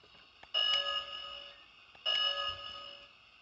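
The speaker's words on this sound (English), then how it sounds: "Single ding of the bell per button push." A Hornby Hogwarts Express toy train bell rings twice, each a bright single ding per button push with a lingering metallic ring, spaced about a second and a half apart.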